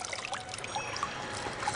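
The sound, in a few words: brook water trickling, radio drama sound effect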